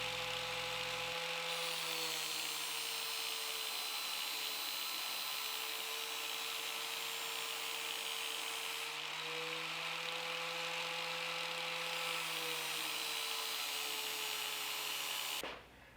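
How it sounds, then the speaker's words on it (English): Angle grinder fitted with a flap wheel and clamped in a vise, grinding the bevels of a handmade knife; a loud, steady motor whine with shifting grinding pitch runs throughout and cuts off abruptly at the end. "the first thing that I tried was to put my grinder in the vise like this, and I put a flap wheel in it"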